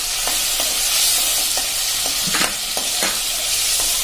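Tomato puree stirred into a sizzling spice paste in a pan for a Kathiyawadi ridge gourd and moong dal dish; a steady fry hiss runs throughout, with a spoon scraping the pan at a regular rhythm.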